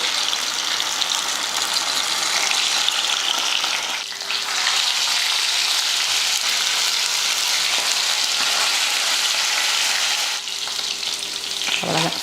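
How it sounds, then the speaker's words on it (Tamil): Fish fries in hot oil in a pan, a loud, continuous crackling sizzle that holds steady throughout with a brief dip partway, no voices over it. "முதல்ல மீன் வறுத்து எடுத்துக்கலாம் அதுக்கு எண்ணெய் சேர்த்துட்டு எண்ணெய் காஞ்சதுமே மீன் எடுத்து வச்சு கொடுத்து எடுத்துடலாம்"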